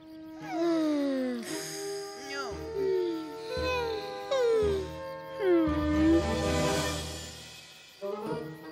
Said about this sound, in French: Nos petits chiens n'ont pas l'air dans leur assiette.